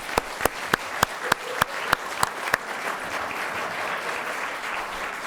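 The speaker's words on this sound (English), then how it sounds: "Please join me now in applause for all the candidates." A candidates forum audience breaks into applause, with a series of loud, evenly spaced claps from one nearby pair of hands over a dense crowd clapping. The sharp claps stop partway while the broader applause carries on steadily.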